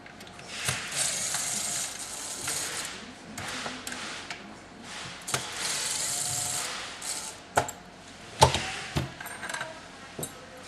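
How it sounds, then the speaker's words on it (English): Screws are worked loose from the lock plate of a Bosch 1611 or 1615 router, with close metallic ratcheting clicks, scrapes and a few sharp knocks from tools and parts, uneven and unhurried, with no talk. "we've got 2 screws that hold the lock plate on"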